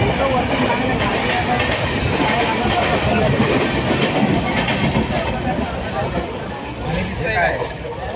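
Inside a crowded Tutari Express train while travelling, a continuous rolling clatter runs under loud chatter from many passengers.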